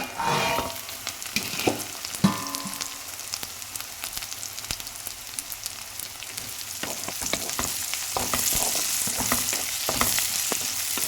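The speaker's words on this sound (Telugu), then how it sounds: "ఇప్పుడు మనం కలుపుకున్నాం కదా, మూత అనేది పెట్టేసుకొని కొంచెం మగ్గనిద్దాం" Onions with egg and capsicum fry in a pan, a continuous soft sizzle with intermittent stirring and scraping clicks, close and unaccompanied by talk.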